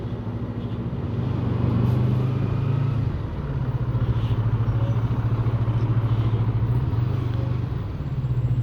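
Heavy road traffic in congestion, with close, steady engine drone and rumble from passing cars and motorcycles, a brief swell in the middle and no talking.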